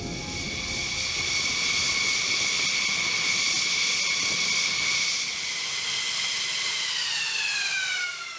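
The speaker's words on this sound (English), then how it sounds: "The F-15E returns to its Hardened Aircraft Shelter, or HAS, along designated taxiways" An F-15E fighter jet taxiing toward its hardened aircraft shelter with engines running, a steady loud turbine whine and hiss with tones that bend downward near the end.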